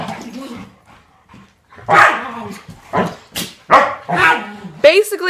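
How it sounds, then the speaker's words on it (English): Several dogs bark, yip and snarl in short, loud bursts while fighting each other at close range indoors, with brief quiet gaps between the scuffles. "as I was saying before my dogs started attacking each other"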